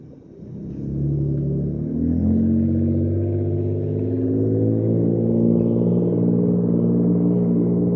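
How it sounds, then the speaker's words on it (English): A loud pickup truck with exhaust in the back rumbles past on a city street, a deep steady engine drone swelling after the first second and holding strong throughout, with no talking. "Loud pickup truck with exhaust in the back."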